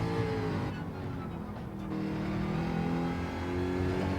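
A race car engine accelerates in Gran Turismo 7, played in PSVR2 with the 1.31 update and traction control under test, rising in a sustained revving drone that stays steady and close throughout.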